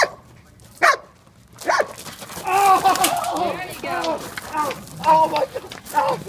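A police dog in training barks in a few sharp, close bursts amid sounds of handlers moving about, with a voice speaking and overlapping the barking through much of it.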